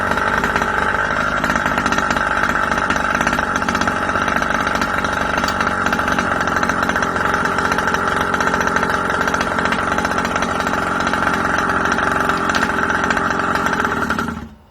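The small gas engine of a Rovan Baja truck with a leak at the isolator block runs with a loud, buzzing, rough drone for about fourteen seconds, then dies abruptly at the end.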